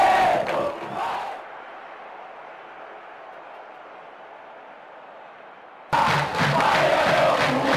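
Crowd noise from a football match in the video game PES 2010 (Bahia vs Grêmio, Brazilian Série A): a loud stadium roar cuts to a steady, muffled hum of fans, then a full, loud crowd surge returns at the end.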